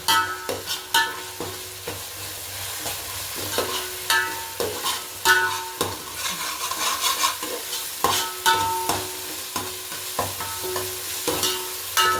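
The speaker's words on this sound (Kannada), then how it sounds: "ಸೊ ಇದನ್ನ ಹಾಗೆಯೇ ಸ್ವಲ್ಪ ಫ್ರೈ ಮಾಡ್ಕೊಳ್ಳೋಣ ಎಣ್ಣೆಲ್ಲೇ ಫ್ರೈ ಮಾಡ್ಕೊಳ್ಳೋಣ" Garlic and ginger paste frying in oil for fish curry, with a steady close sizzle broken by repeated sharp scraping and stirring strokes in an irregular rhythm and no talking.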